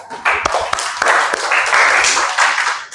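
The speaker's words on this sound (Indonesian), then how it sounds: "Tepuk tangan dulu." A classroom group of students claps together, sharp uneven hand claps building into a brief burst of applause, loud and close, with a few scattered individual claps at the start.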